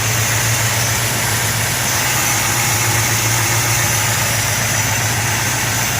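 A 1960 Chrysler 300F engine idles close by, warmed up, with a steady, low rumble and constant vibration, unchanged throughout.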